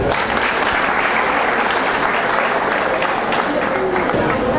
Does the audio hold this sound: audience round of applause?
yes